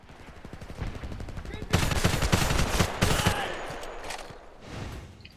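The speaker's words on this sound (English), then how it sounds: "if you want to be working at longer ranges with this gun, you should be burst firing it" Short bursts from a T3AK assault rifle in the shooter game Homefront, rapid clustered shots fired in quick repeated groups, loud and close, with brief gaps between bursts.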